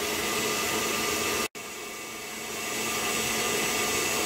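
An electric mixer whisks egg whites with sugar for a tiramisu meringue, giving off a steady loud whirring hiss that cuts out for an instant and then runs on.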